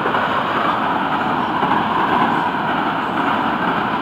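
Freight train of the FEC railway rolling past at close range, a steady broadband rumble and clatter of cars with no pause, loud and sustained throughout.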